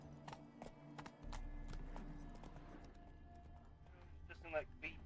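Geralt's horse Roach trotting in The Witcher 3, a steady clip-clop of hooves running under the game's ambient sound, with a voice speaking over it.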